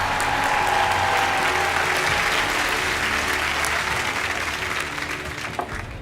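Television talent-show audience applauding after a magic trick, a full, loud and sustained roar of clapping from a large crowd that carries evenly to the end.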